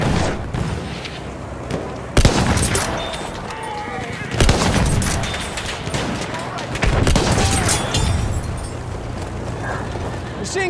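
Battlefield 1 gameplay: rapid machine-gun fire crackles in dense, continuous bursts amid mechanical clatter and booming combat noise, with voices mixed in.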